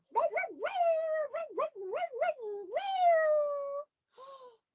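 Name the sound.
voice imitating a dog howling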